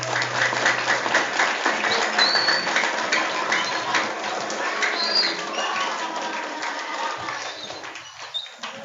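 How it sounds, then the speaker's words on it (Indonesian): Applause from a small audience at a podcast gathering of senior alumni of MTs Salafiyah, a steady clatter of clapping lasting several seconds with a few bird-like chirps mixed in, thinning out near the end. "Beri tepuk tangannya dong."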